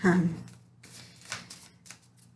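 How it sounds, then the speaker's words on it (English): Tarot cards are shuffled by hand up close, several quick papery riffling bursts following one another over a couple of seconds. "So after a couple of quick shuffles, I will show you that I do shuffle my cards."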